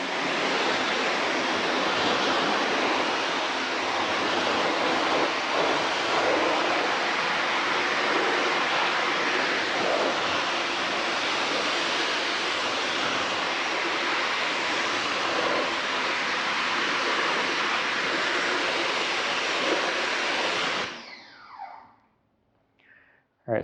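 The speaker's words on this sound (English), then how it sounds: "so pressure washing off now." A pressure washer rinses tire and rubber cleaner off a vehicle, a loud, steady broadband hiss of spraying water that runs without a break for about twenty seconds, then cuts off abruptly.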